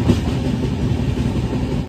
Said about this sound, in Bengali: খেতে খেতেই ট্রেনটা ছেড়ে দিল গয়া